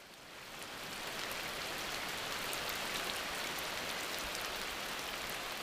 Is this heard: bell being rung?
no